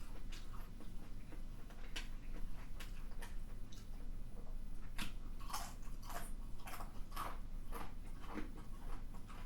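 Close, continuous chewing on crunchy Pizza Hut Chicago tavern-style thin-crust pizza, with sharp crackling crunches scattered through a steady wet munching, no talking over it.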